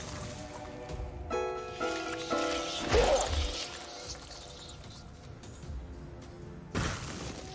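Glass shatters from glass torture cannons in the video game Legend of Keepers: a string of fairly quiet crashes and bright tinkling breaks, the biggest smash near the middle, followed by scattered ringing fragments.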